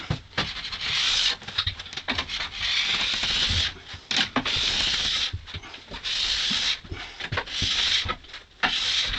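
A steel scraper is dragged over waxed skis in repeated firm strokes, each a close, raspy scrape with short pauses between passes as the wax comes off tips and tails.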